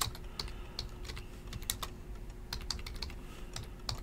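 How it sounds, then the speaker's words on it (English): Fingers tap on a computer keyboard in quick, irregular bursts of light clicks, close and fairly quiet, with no voices. "So let's type that in."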